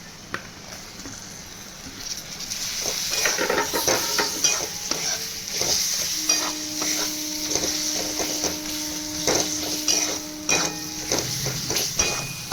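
Tomatoes frying in a pan for arhar dal, a continuous bright sizzle with repeated clinks and scrapes of a spoon stirring against the metal, close and fairly loud throughout.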